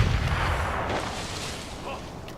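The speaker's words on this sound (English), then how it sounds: "Oops, there's a grenade." A grenade explosion in Crysis bursts with a deep, rumbling boom at the start, then decays into a long, fading roar with scattered debris noise.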